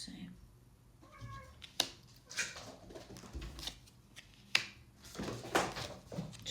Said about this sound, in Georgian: ჩემი კატა ითხოვს ყურადღებას და არ გაგიკვირდეთ მისი ხმები